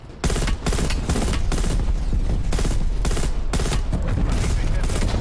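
A bomb detonation in Call of Duty Black Ops Cold War, followed by sustained loud rapid gunfire and fusillade bursts throughout, with a voice briefly under the barrage.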